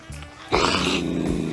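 An angry cat lets out a low, drawn-out growl that swells suddenly into a loud, harsh snarling yowl, close and sustained to the end.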